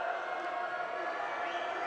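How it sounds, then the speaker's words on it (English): A boys' high school basketball crowd keeps up a steady, dense roar of cheering and noise in a gym during a free throw, continuous and fairly far off with no single voice standing out. "Crowd trying to make some noise here."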